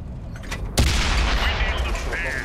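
One sharp, loud tank gun blast in World of Tanks, a sudden crack followed by a long rumbling decay with faint background noise.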